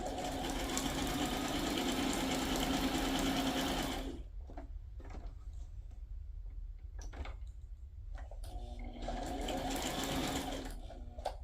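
Sewing machine stitching around a handmade journal tag, a steady dense whir running for about four seconds, then a pause with faint handling clicks and taps, before the machine starts stitching again near the end.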